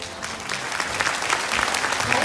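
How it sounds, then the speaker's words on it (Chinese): An audience in an auditorium applauds award recipients at a railway anniversary celebration with dense, steady clapping that carries on loudly without a break. "也请在座给予热烈的掌声"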